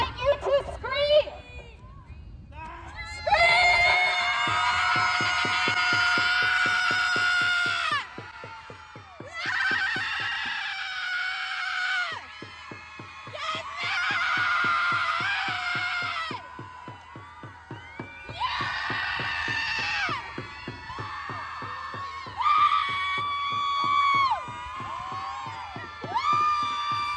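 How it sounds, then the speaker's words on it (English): Bursts of screaming come in repeated waves, loud and sustained for several seconds each with short gaps between, over a pulsing beat. "And now I invite you to scream!"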